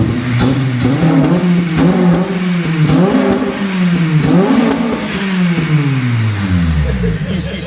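A Honda Civic Type R FN2 with its K20 engine and a Tegiwa exhaust revs hard and loudly up close, climbing and falling through several rises before the revs drop away at the end.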